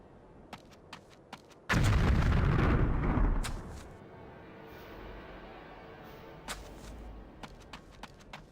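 A burst of loud, rumbling blasts from grenades thrown in the Army Men Air Attack video game, lasting about two seconds, then fading into quieter game ambience with a few soft thuds.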